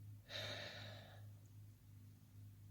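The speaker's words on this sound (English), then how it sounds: "let's take 3 cleansing deep breaths" A single deep cleansing breath, a soft airy exhale lasting about a second, close and quiet, followed by near silence with faint room hum.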